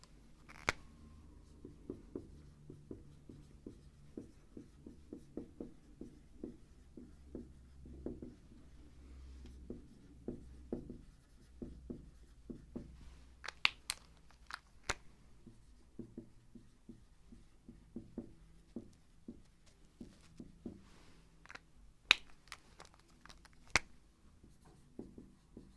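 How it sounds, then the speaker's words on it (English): Pen or pencil writing on paper during a Class 8 math lesson on the area of a trapezium, heard as steady, close, quiet scratching strokes in short bursts, with a few sharper taps, and no talking. "So let me write it down."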